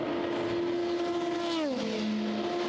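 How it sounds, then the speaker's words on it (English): A P2 prototype race car at the 2017 Le Mans 24 Hours passes close by, its loud steady engine note sweeping down in pitch as it goes past, then settling lower as it pulls away. "Senna just at the back there, he's about to whip out and pass that other P2 car"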